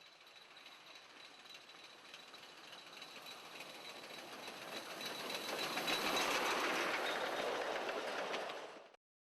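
A heritage railmotor on the Mary Valley Heritage Railway in Queensland rumbles steadily along the rails, its noise swelling as it draws nearer and peaking before cutting off abruptly.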